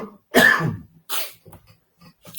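Two to three coughs from a woman indoors, a loud burst followed by a second one and a few faint rough throat sounds, close and alone with no talk.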